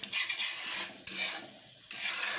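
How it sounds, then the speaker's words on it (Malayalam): Egg bhurji scrambled in a pan with a soft, steady sizzle and a few sharp spatula scrapes and taps as the egg is stirred and broken up. Close but fairly quiet, with no voices. "നല്ല തോരം പോലെ ചിക്കി ചിക്കി ഇങ്ങനെ എടുക്കുന്ന ഇളക്കി ഇളക്കി നല്ല വൃത്തിയായിട്ട്"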